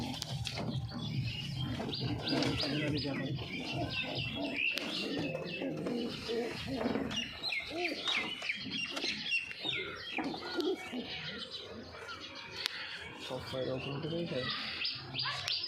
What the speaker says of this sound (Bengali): দেখবো এখন কি কি পায়রা আছে এর কাছে।